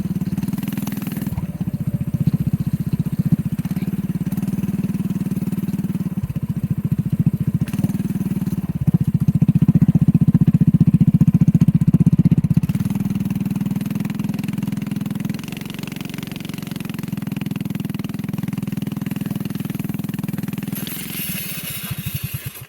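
A homemade go-kart engine rides down a road, droning steadily with a low, buzzing motor note that rises and falls as the throttle changes, loud and close throughout with no talking.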